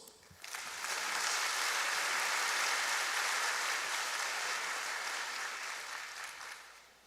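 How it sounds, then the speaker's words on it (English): A large conference audience applauds a professor's introduction, the clapping swelling quickly into a broad, dense wash that holds steady for several seconds before gradually tapering off, with no voices over it. "A round of applause."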